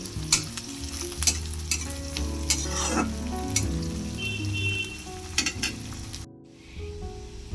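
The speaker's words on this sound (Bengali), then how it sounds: "এবার আমি কুচিয়ে রাখা পেঁয়াজটা দিয়ে দিই পেঁয়াজটাকে এবার বেশ কিছুক্ষণ ভেজে নেব" Chopped onion fries in hot spiced oil with a steady, loud sizzle and crackle, broken by intermittent scraping stirs of a utensil against the pan, ending briefly quieter.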